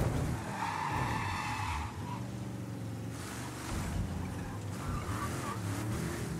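In the video game Mafia III Definitive Edition, tires screech and skid loudly over a roaring car engine, with a longer squeal early on and rushing road noise after.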